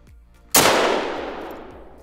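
A single 9.3x74R rifle shot is fired in theHunter: Call of the Wild. The close, sharp crack is followed by a long rolling echo that fades into quiet.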